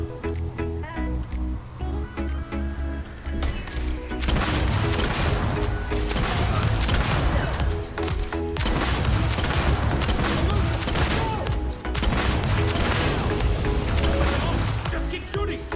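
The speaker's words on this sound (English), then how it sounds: "Just keep shooting!" Sustained firefight in Starfield, a dense continuous barrage of overlapping gunshots and impacts that swells louder partway through and stays intense, with game music or ambience underneath.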